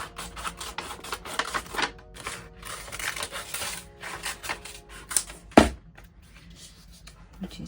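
Scissors cutting paper for a witchcraft journal, a run of close crisp snips and rustles with brief pauses, ending in a sharp thump and paper handling.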